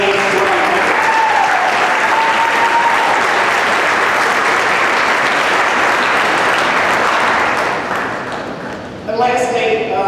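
An audience at a college sports hall of fame ceremony claps in a sustained round of applause that fades slightly near the end before a voice begins speaking.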